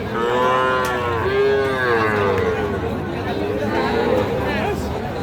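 Calves moo loudly and repeatedly at a cattle market, drawn-out calls close by, over a busy hubbub of crowd chatter.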